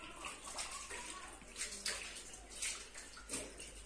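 Tap water runs steadily while fresh produce is rinsed under it, a close splashing stream with uneven gurgles and sloshes, fairly quiet and without talk.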